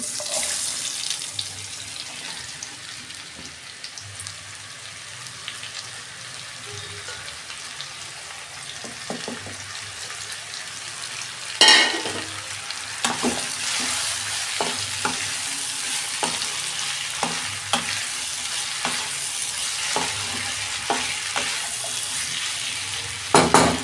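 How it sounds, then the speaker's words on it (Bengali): Drained kakrol (teasel gourd) frying in a pan with cumin, a low background sizzle broken by scraping and stirring clatter, including a sharp burst midway and a quicker run of spatula knocks, close and with no talk. "এই যে কাঁকড়েলটা জল ঝরে গেছে এই যে আমি দিয়ে দিচ্ছি"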